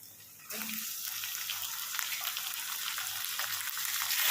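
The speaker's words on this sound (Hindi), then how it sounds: "अब चिकन को हम भून लेंगे।" Chicken hits hot oil with softly golden onions with a sudden loud sizzle that continues as steady, crackling frying, close up and rising slightly toward the end.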